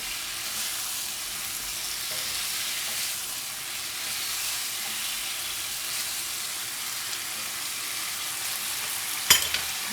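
Brussels sprouts caramelizing in a pan give off a steady, close sizzle and hiss for the whole stretch, with a brief sharp clink near the end.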